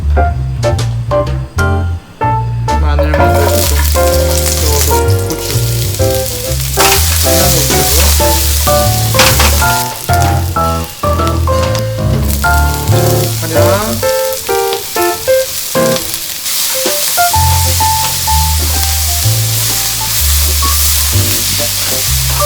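Kimchi udon stir-fried in oil in a pan sizzles steadily under prominent background music, with the frying hiss continuing through the whole stretch.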